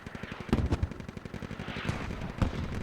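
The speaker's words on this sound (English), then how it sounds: "But these mortars are brutal for them right now." Mortar and gunfire during an insurgency battle in the video game Squad on Al Basrah, with heavy booming impacts cutting through a continuous rattle of rapid shots at close range.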